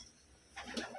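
Pigeons kept as flyers give a short, soft coo that rises after a quiet moment, faint and close, with no talking.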